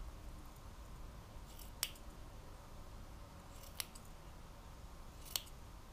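Three crisp, isolated scissor snips, spaced about two seconds apart, trimming the yarn beard of a crocheted amigurumi Christmas gnome over a quiet hiss, with no talking.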